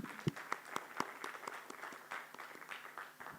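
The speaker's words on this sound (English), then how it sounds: "let's just give them another round of applause" An audience applauds at a science forum session in a handful of faint, scattered claps with a few sharper hits near the start, sounding distant and thin rather than a full ovation.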